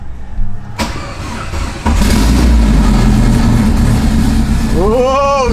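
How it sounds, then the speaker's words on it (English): A car engine cranks and fires after its PCM and SKIM modules are swapped, then settles into a steady, loud idle close by, a short burst of talk near the start. "we got a start and a nice idle"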